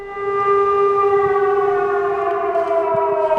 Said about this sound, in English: An air siren means we need to go to the shelter.